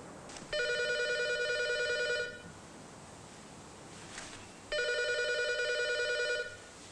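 A telephone bell rings loudly in two long bursts with a pause between, heard indoors in a tense domestic scene, no talk over the rings.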